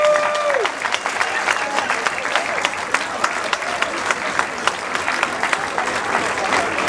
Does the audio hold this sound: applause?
yes